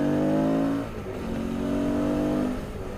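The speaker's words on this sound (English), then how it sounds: "That truck was actually moving pretty fast." A truck speeds past on a Tennessee road, heard from a moving motorcycle as a steady engine drone that swells, shifts pitch and fades over a few seconds, mixed with wind and road noise.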